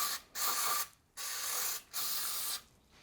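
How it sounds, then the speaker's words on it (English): Three short bursts of cleaner spray hiss into the idle air control valve of a 1998 Nissan Skyline R34, each lasting about half a second with brief pauses between. "One last spray out."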